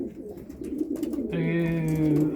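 Homing pigeons in a loft give soft low coos, the murmuring growing into a fuller, sustained cooing near the end, heard close with no talk.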